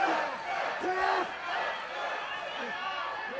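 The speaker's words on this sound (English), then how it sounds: "The crowd begging Ethan not to tap" An indoor pro wrestling crowd at a John Skyler versus Ethan Case match shouts and cheers in a sustained roar, with individual voices rising above the din as a commentator talks over it.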